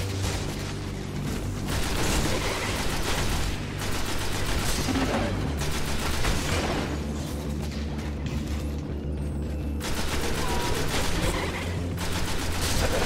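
An assault rifle fires repeatedly in the Destiny shooter game, dense bursts of gunfire in rapid fusillades with short gaps, loud and continuous over a rumbling battle background.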